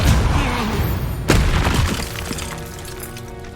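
A Confringo blasting spell in Hogwarts Legacy bursts with a heavy boom and crackling, shattering debris, followed by a sharp second impact and a fading rumble.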